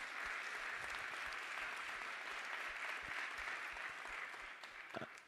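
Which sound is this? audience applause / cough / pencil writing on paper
audience applause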